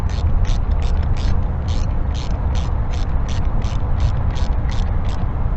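A ratchet wrench tightens spark plugs on a 2000 Jeep WJ 4.0 engine, giving a loud, steady series of evenly spaced clicks close up over a low background hum.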